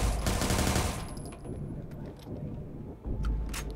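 Gunfire from Watch Dogs 2: dense, rapid automatic shots crack out loud and close at the start, then continue as scattered, rougher bursts mixed with game noise through the rest.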